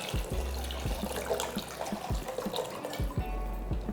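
Water runs and splashes steadily into a pot up close, with occasional clunks and knocks of the pot, for boiling eggs.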